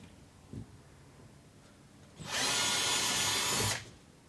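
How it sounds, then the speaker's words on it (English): A power drill fitted with a 5mm bit bores holes while a linen cupboard is installed: a faint knock first, then one loud, steady whirring burst of about a second and a half against a quiet room. "Take your drill with your 5mm drill bit."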